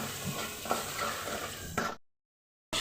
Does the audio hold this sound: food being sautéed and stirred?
yes